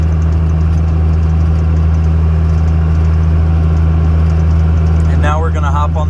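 A 2001 stacked Cummins diesel truck cruising at about 60 mph with a steady, loud low drone and constant road rumble throughout, and a brief burst of speech near the end.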